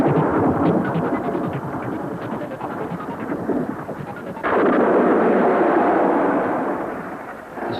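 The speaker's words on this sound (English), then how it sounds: "Thunder crashed, the lightning flashed" Cartoon thunder crashes in a long, dense roar that rumbles continuously, then surges louder in a second heavy burst before slowly fading away.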